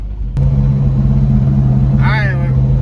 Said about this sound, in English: there's somebody driving by